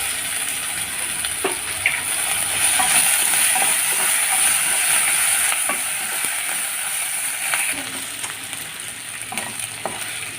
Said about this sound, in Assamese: আদা নহৰুখিনি দি লৈছোঁ মই এতিয়া।